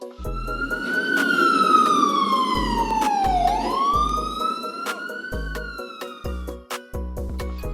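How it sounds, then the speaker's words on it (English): An ambulance siren gives a slow, drawn-out wail, falling and then rising again, fairly loud over a low road rumble with short low blasts in between. "Ambulance."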